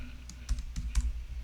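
Computer keyboard keys are tapped while code is typed, a handful of quiet, separate clicks in an uneven rhythm, close and alone.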